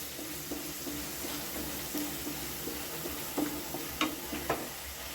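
Ground masala paste for a dhaba-style egg masala curry frying in oil, a steady low sizzle with soft stirring scrapes and a few sharper clinks near the end, fairly close.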